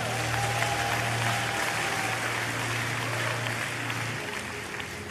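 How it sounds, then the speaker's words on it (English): Steady applause from a church congregation at a Sunday service, a dense patter of clapping that fades slightly near the end, with a low hum beneath it. "I think you should give them a great round of applause."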